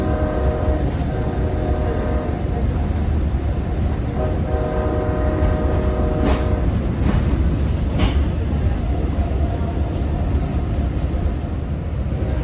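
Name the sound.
passenger train running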